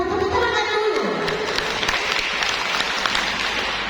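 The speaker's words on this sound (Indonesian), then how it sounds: "Tepuk tangan dulu" A church congregation at a Catholic charismatic prayer meeting in Makassar breaks into sustained, dense applause, many hands clapping together over a few seconds.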